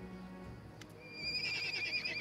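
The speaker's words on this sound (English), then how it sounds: "they snort loudly and neigh as you approach" Ponies in the fantasy role-playing game Pathfinder: Kingmaker neigh and whinny near at hand, with a high, wavering call that rises and holds over the second half above a low background bed.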